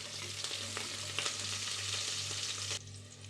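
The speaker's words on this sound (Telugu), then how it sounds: "ఇప్పుడు కొద్దిగా ఫ్రై అవనిద్దాం" Green and dried chillies with curry leaves fry in a pan, giving a faint, steady sizzle with a few light stirring scrapes over a low hum.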